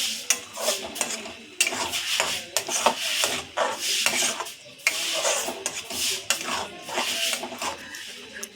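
A spoon scrapes and clatters around a metal pot as sambar dal with tomato paste is stirred, giving close, steady rubbing and knocking strokes in an irregular rhythm with no voices.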